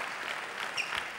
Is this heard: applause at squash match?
yes